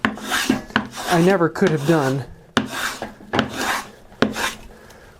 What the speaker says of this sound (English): I can now cut with the plane, with the grain, and not have any fear about it